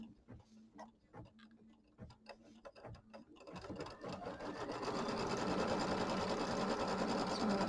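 Embroidery machine stitching a tack-down line over batting for a quilt block, starting with slow, spaced mechanical ticks and clicks, then speeding up into a fast, steady, close-up rattling hum.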